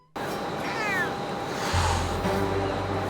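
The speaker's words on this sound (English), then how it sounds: "I also got yelled at by a bunch of cats as I roamed around" Several cats meow in the New Arc Line video game, a few clear, close cries, one rising and falling meow prominent, over a steady ambient wash like distant surf.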